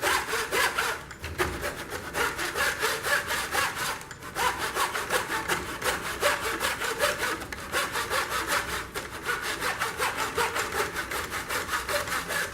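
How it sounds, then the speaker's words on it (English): A hand saw cuts shallow grid lines into a wooden board, producing a steady, close, rhythmic back-and-forth rasp of even strokes throughout, with only brief pauses. "go ahead and cut parallel to the wood"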